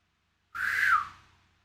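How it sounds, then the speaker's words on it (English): A single referee's whistle during a football match, a sharp, clear blast of about half a second that fades quickly, with no talk around it. "Whistle again."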